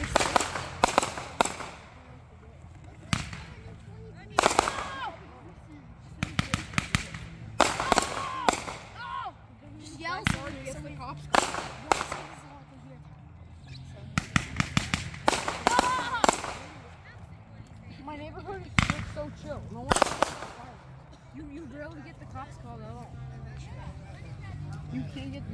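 Neighborhood Fourth of July fireworks pop and boom in sharp, irregular bursts, some clustered in quick volleys and others spaced apart, near and loud, with people chatting between and under the blasts.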